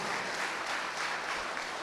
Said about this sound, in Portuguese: desse um aplauso ao Senhor Jesus